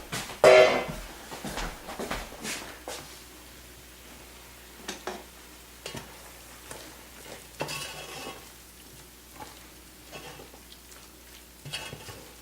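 Gumbo ingredients, including meat and leftover flour, are stirred in a pot, with scraping clinks and soft rustles in irregular bursts over a faint background sizzle.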